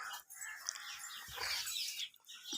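Chickens cluck and squawk close by, with a flurry of busy, overlapping calls and some rustling, no voices.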